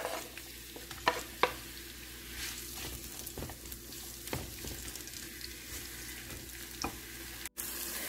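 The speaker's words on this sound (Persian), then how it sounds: "حالا یه دونه پیاز بزرگی رو که داشتیم به صورت خلالی خورد میکنیم و داخل ماهیتابه اون رو تفت میدیم تا به صورت نیمه طلایی در بیاد" Sliced onion sautés in oil in a frying pan, a steady close sizzle with occasional stirring scrapes and light knocks.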